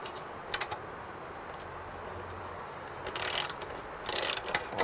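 Close mechanical ratchet clicks come from a wrench turning bolts on a wind-up mower, heard in two short bursts over a steady background hiss.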